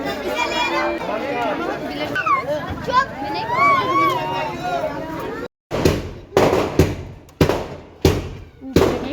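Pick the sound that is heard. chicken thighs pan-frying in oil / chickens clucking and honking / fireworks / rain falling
fireworks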